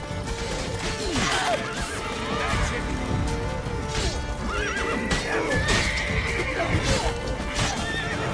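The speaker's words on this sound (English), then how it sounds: "can someone shut up the horses?" Horses neigh and whinny repeatedly over hooves clopping and clattering in The Witcher 3: Blood and Wine, a busy, loud, continuous scene with a faint voice briefly underneath.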